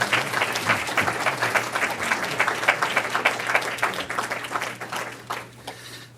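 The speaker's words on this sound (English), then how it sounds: "You're supposed to clap." An audience at an academic professorship celebration ceremony applauds steadily as medallions are bestowed, a dense patter of many hands that gradually tapers off toward the end.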